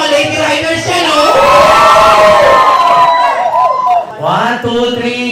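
A crowd of women riders at a competition event shouts and cheers loudly, sustained yells rising and falling in pitch over a noisy crowd.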